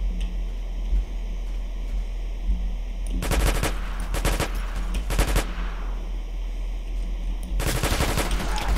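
Rapid automatic gunfire in a Roblox neighborhood war 1v1 match: several dense bursts of machine-gun fire break out in clusters over a faint steady background, fairly loud and close, no speech.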